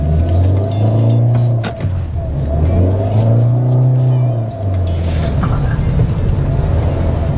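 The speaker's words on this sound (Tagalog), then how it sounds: "Napansin ko lang yung pag binibigyan ko siya ng power, parang hindi siya yung nagsishift eh. Parang dire-diretso yung tunog niya." A 2026 Toyota Vios Ativ HEV hybrid with CVT accelerates under power, its engine drone rising steadily without gear-shift breaks, loud and close from inside the cabin with a brief dip mid-pull.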